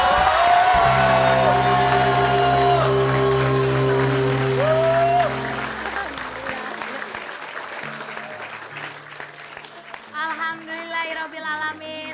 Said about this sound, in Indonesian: Kita kasih tepuk tangan untuk Ibu Dahlia